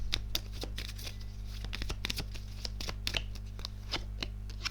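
Tarot cards being dealt and laid over one another on a table, a run of soft, quick slaps and shuffles repeating at close range over a steady low hum, with no voices.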